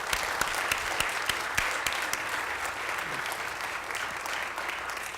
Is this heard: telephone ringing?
no